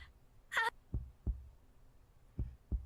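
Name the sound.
heartbeat sound effect in audio story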